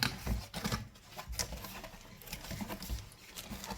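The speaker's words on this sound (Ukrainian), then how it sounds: "Зараз ми його розпакуємо і переглянемо на нього." Hands unpack a Feron AL6600 SHINE 70W LED ceiling light from its packaging, giving quiet, irregular rustling, crinkling and light tapping close by without speech.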